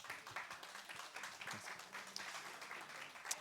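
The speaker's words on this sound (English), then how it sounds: "Big round of applause for Joe Duckhouse." Steady applause from an audience at a university esports finals event, a dense patter of many hands clapping at an even level throughout, with a faint voice briefly underneath.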